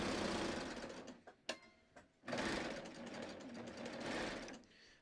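A serger sewing machine runs steadily as it chains off fabric, a dense close whirring that briefly stops and clicks near the middle before resuming at full speed to the end.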